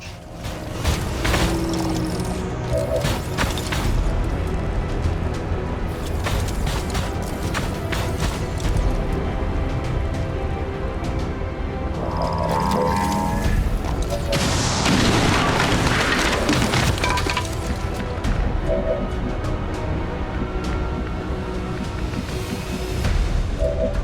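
A rocket is fired and explodes during combat in the video game XCOM 2, with booming blasts and a loud roaring burst midway, layered over game music and effects.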